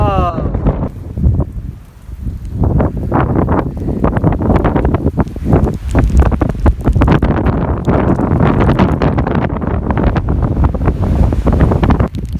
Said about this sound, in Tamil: காற்று அப்படியே அந்த பனி அப்படியே கொண்டு வந்து அடிக்குது மூஞ்சிக்கு